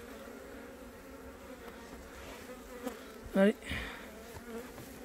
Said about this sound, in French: C'est une reine qui arrive à s'envoler comme ça.